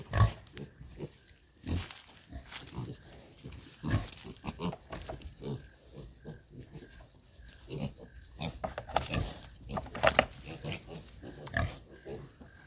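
Six-week-old Duroc Hampshire F1 cross piglets grunt and oink repeatedly at a moderate distance, with scuffling and shuffling movement throughout and no talking.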